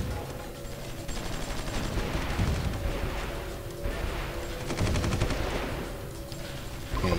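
Continuous rattling gunfire and dull artillery booms fill a battle in the strategy game Supreme Ruler 2020, dense and rolling with no pauses.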